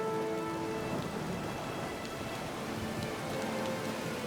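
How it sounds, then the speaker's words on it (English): Heavy rain downpour in the video game Pillars of Eternity II: Deadfire, aboard a sailing ship at sea, a dense constant hiss of falling rain with no voices. "Hats and cloaks turned against the rain. The crew guide Black Sailor through the unending downpour."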